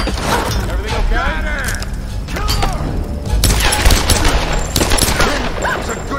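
Gunshots in the action game Tomb Raider, fired in a loud, chaotic stretch of repeated shots, clatter and impacts, with voices calling out throughout.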